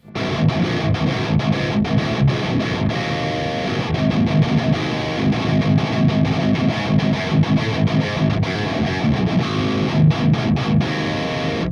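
A heavily distorted metal guitar runs through the Audio Assault AHM 5050 amp on its 606 setting, playing dense, loud palm-muted riffing with sharp rhythmic chugs and short gaps, continuous throughout with no voice.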